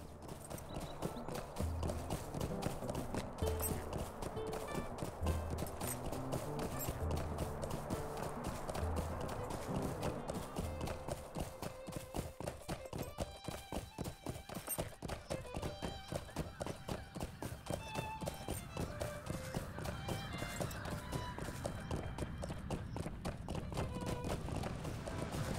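Horse hooves pound in a steady galloping clip-clop throughout a ride in the Lord of the Rings Online game, with a musical score playing underneath the whole time.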